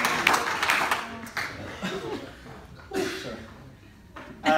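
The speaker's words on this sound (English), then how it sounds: "Thanks for applauding. Thanks for applauding." Wedding reception guests clapping during the speeches, a loose ripple of applause with chuckles and voices mixed in, heard in a room at moderate distance.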